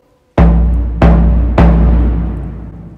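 A tamburo grande, a large frame drum used alongside cymbals and triangle, is struck three times with a wooden stick. Each hit is a loud, close, booming thud that rings and decays slowly, the third one sustaining longest.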